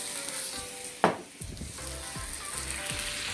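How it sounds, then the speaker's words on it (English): Honey is stirred into a sizzling batch in a pan, with a loud clatter as it goes in, then soft scraping strokes of the spoon over a steady, bright frying hiss. "now I'm just gonna give it a little stir"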